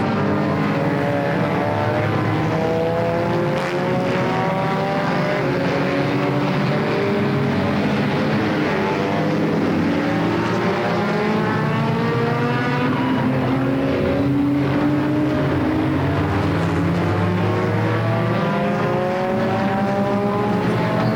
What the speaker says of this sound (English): We got red and white cars spinning around going the wrong way.